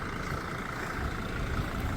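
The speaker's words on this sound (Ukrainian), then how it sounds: "заведений двигун" A van's engine running at idle, passenger van on an outdoor car market, a steady close low rumble with broadband hiss and no speech, constant in loudness throughout.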